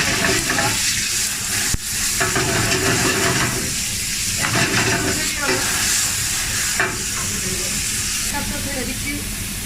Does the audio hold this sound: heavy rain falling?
no